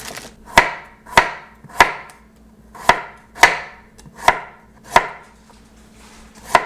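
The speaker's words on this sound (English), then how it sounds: "For my arugula salad, we're gonna do sliced radishes" A knife slicing radishes on a cutting board for an arugula salad, nine crisp, evenly spaced chops ringing out clearly and close with short pauses between them, no voices.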